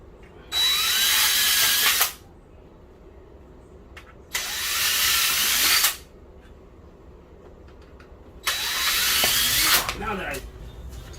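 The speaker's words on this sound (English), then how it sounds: "let's drill through the wood" A power drill whines in three separate bursts of a second or two each, drilling through wood, with quiet pauses between them, fairly close.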